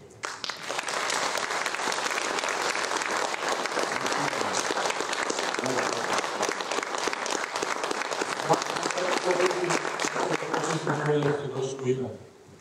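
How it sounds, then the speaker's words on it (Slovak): Sustained applause from an audience at a Slovak public discussion evening, dense even clapping holding steady for most of the stretch, with some voices and crowd noise surfacing under it before it fades at the end. "zaslúžite si obrovský potlesk"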